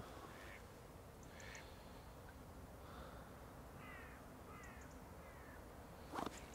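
A duck out on the water at a float-fishing spot gives a few short, faint quacks at intervals over a steady outdoor hiss, with a brief louder rustle near the end.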